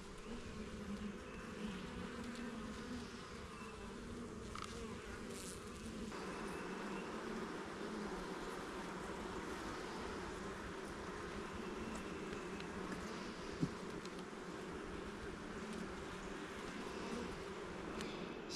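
Honey bees buzzing during a hive inspection, a steady, dense hum of many insects droning close by for the whole stretch, with no talk over it.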